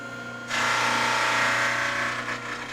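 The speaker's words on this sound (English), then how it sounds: "So let's get set up for drum sanding." A drum sander sanding wood for a guitar build starts up abruptly and runs with a loud, steady whirring roar over a low machine hum, easing slightly near the end.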